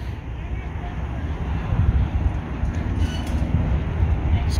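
Wind buffets a microphone outdoors beside a garage, a steady low rumbling roar with gusty swells that continues for several seconds with no talking.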